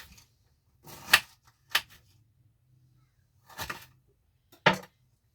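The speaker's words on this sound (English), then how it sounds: "So I've cut it long ways. We'll cut it into smaller" Knife chopping a vegetable into small pieces on a board while cooking a simple stew, heard as four sharp separate chops with pauses between, close and fairly loud, with no talking.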